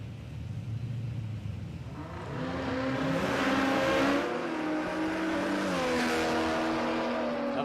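A six-cylinder Ford XF Falcon drag car with a side scoop launches down the strip, its engine revving up and pulling hard through the gears in a loud, rising run, joined by a second car close alongside.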